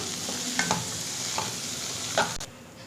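Vegetables are sautéed in butter in a pan for a creamy white sauce pasta, giving a steady close sizzle with a few scraping stirs of a spoon against the pan, no talking.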